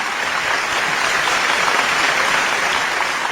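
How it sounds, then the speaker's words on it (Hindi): Steady, dense audience applause fills a comedy poetry show (hasya kavi sammelan), many hands clapping at once at an even, loud level throughout with no voices on top. "जोरदार तालियां आप बजाइएगा"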